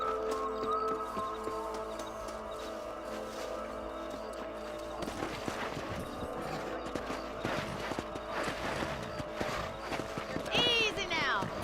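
Horse hooves clip-clopping in the Western video game Red Dead Redemption, a steady rhythmic canter heard over game music and ambience, with characters talking throughout.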